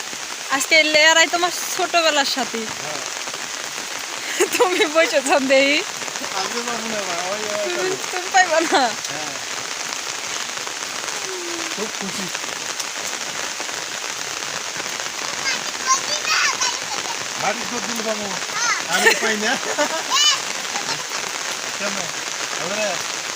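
Heavy rain beats steadily on a surface, with children shouting and voices chattering over the downpour at times.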